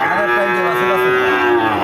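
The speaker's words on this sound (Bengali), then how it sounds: "এইদিকে একটা দেখতে পাচ্ছেন বড় গরু" A cow moos once in a long, loud, drawn-out low call, close by and steady, with no voices over it, at a cattle market.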